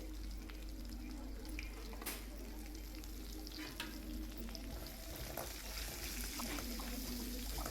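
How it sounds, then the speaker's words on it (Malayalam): Food sautéing in a pan, a continuous close sizzle with intermittent stirring scrapes and clinks over a low background hum, with no voices. "ഇതൊന്ന് നന്നായിട്ട് വഴറ്റിയെടുക്കാം."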